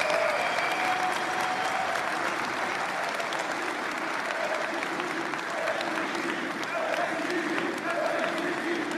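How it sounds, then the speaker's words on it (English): An audience applauds for Representative Marjorie Taylor Greene, sustained dense clapping from a large crowd, steady and fairly loud throughout, with faint voices mixed in under the clapping. "Can we get another round of applause?"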